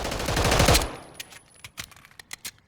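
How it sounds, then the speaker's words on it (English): CAA RONI G-1 carbine kit in Call of Duty Modern Warfare III, first a loud dense burst of rapid fire, then a string of separate crisp tap-fired shots with short gaps between them, close and alone. "Let's go ahead and check out the recoil control. If I let this thing tap fire this as fast as I can,"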